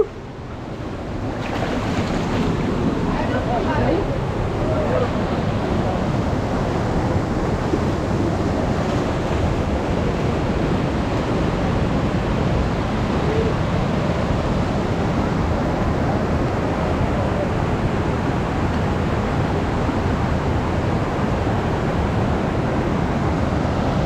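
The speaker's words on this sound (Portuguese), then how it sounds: "Aí o portal da Cachoeira da Jamaica." A waterfall, Cachoeira da Jamaica in Paraty, roars as a loud, dense and constant rush of falling water heard close up, steady for the whole stretch with no talking.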